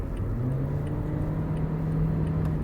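A 2018 Toyota Yaris TRD with a CVT accelerates at full throttle in sport mode. The engine drones steadily from inside the cabin, with a rising low tone and no talking.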